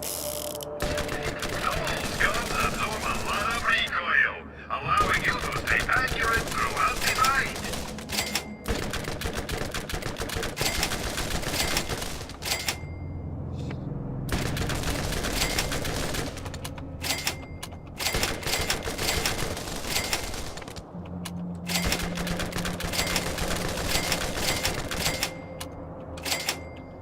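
Tediore guns fire in Borderlands 1 in rapid, clattering bursts of mechanical shots, separated by short pauses, with game sounds running under them.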